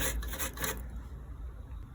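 An old paintbrush scrubs debris out of a pool pump timer box, giving a dry, raspy brushing that comes in quick strokes at first, then settles into a faint, steady rub.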